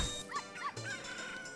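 A dog barks a few times in the video game The Legend of Zelda: Ocarina of Time on Nintendo Switch, with short, clear yips alone over quiet game ambience.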